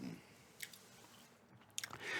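Gum is chewed close up in a quiet room, with a few soft wet smacks and crunchy clicks spaced irregularly over low background hiss.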